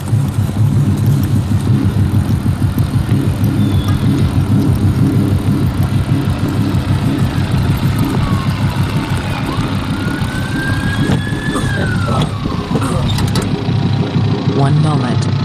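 A car engine idles steadily and loudly throughout, with a continuous low rumble under talk as the car is being stolen in a game scene.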